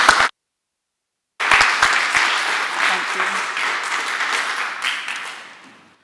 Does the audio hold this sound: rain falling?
no